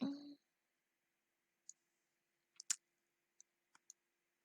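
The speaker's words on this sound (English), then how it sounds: "And then type that into your calculator." Several sparse key presses on a calculator as numbers are entered, each a brief, faint click spaced irregularly over a few seconds in a quiet room, after a short burst of voice at the start.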